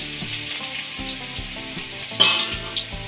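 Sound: onions frying in hot oil in a pan

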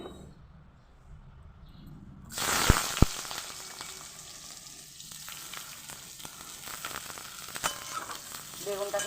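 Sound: eggplant frying in hot oil

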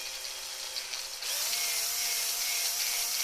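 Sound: drilling a hole in a toner cartridge

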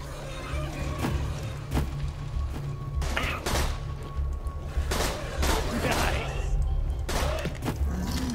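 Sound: gunfire in video game Borderlands 2

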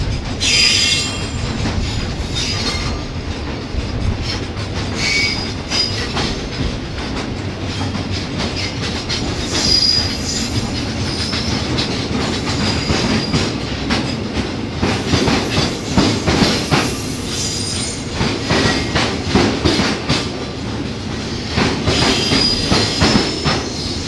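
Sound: cement freight train shunting at station yard

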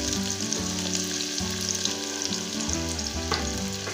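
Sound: large onions frying in oil

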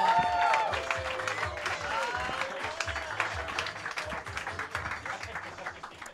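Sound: audience applause for a comedian

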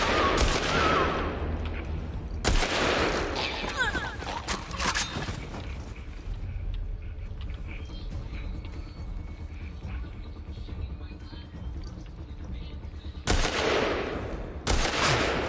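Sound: rifle gunfire in the video game The Last of Us Part II

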